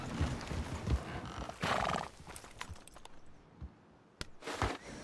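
Horses in Red Dead Redemption 2 neigh and whinny over clopping hooves, with loud bursts of neighing rising above a busy, uneven stream of hoofbeats and game noise.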